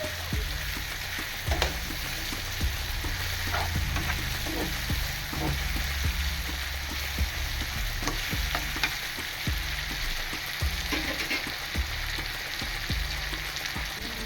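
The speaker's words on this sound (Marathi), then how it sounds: "आता बरी फ्राय करून घ्यायचा." Prawns sizzle in a pan for a coconut sukke dish, giving a steady close crackle of frying with scattered pops and stirring scrapes, unbroken throughout.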